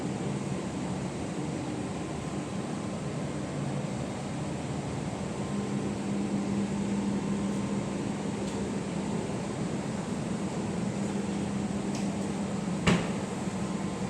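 A semi-automatic coffee machine runs after its button is pressed, with a steady, fairly loud mechanical hum and whir throughout and a single click near the end.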